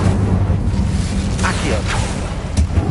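Incendio fire spell cast in Hogwarts Legacy, a rushing, crackling burst of flame with whooshing swells and a few sharp pops over low rumbling game ambience, moderately loud and continuous.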